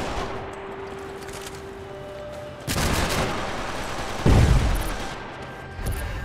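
Gunfire in a multiplayer deathmatch on a rooftop in a third-person shooter video game, with several sharp loud reports and bursts over a low ambient hum, one heavy blast standing out near the end.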